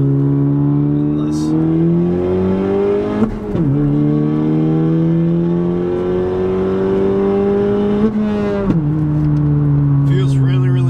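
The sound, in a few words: 2018 Honda Civic Si engine while shifting gears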